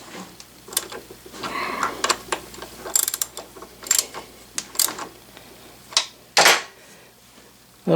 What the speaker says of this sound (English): And I'll tighten those up with a socket.